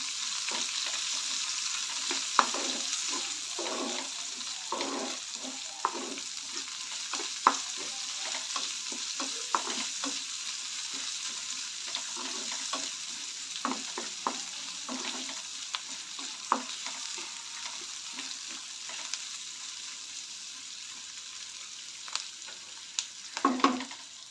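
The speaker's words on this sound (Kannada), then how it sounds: "ಕರಿಬೇವು, ಸಣ್ಣದಾಗಿ ಕಟ್ ಮಾಡಿಕೊಂಡ್ರೆ ಈರುಳ್ಳಿ, ಇವು ಸ್ವಲ್ಪ ಫ್ರೈ ಆಗುತ್ತೆ" Chopped onion and curry leaves fry in oil for a sprouted fenugreek gojju, making a soft, continuous sizzle with frequent scraping and clinking from stirring over about twenty-four seconds, with no talking.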